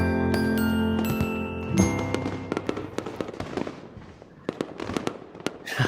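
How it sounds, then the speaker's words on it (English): A fireworks display crackles and pops in a dense run of sharp bangs and sizzling bursts, with a brief louder boom partway through, heard without any talk. "Get out with the outro with the fireworks."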